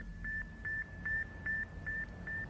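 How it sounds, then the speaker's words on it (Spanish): Sputnik 1 satellite radio signal, a faint cricket-like beep received on a weak 20 MHz shortwave band: six short, evenly spaced tones repeat steadily amid broad background noise and static. "Al fondo, entre todos los ruidos, pude oír un sonido. Era más como un grillo que un bip"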